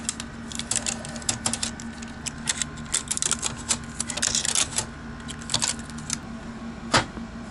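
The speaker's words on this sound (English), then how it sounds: "We might as well take off the tape." Packing tape being pulled off an unboxed package, giving a series of sharp, crackly rips and ticks in irregular bursts, close and clear over quiet room tone, with one louder tear near the end.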